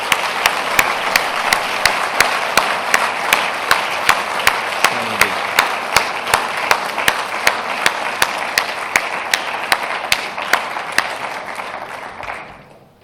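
Sustained applause from a standing audience at the closing ceremony of the WasteEng2016 conference, a dense steady clapping that holds loud for about twelve seconds before tapering off at the end.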